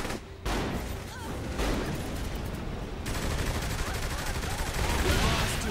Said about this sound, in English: Why can I not shoot his gas tank?